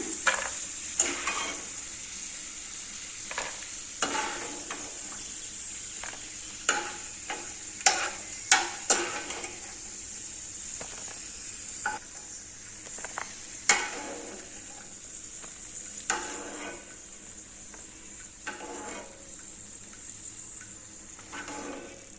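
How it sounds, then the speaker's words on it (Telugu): Bread pieces fry in a pan for bread halwa, a constant thin sizzle under irregular clicks and scrapes as a spatula stirs and turns them, some strokes sharper and louder than others. "ఈ విధంగా మొత్తం కలర్ వచ్చిన దాకా వేయించుకోవాలి"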